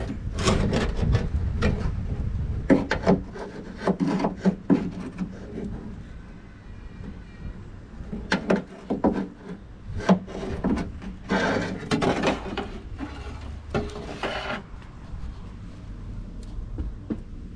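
Wooden, rubbing scrapes and clunks as a truck tailgate handle is slid and pulled out, in bursts with brief pauses, close by.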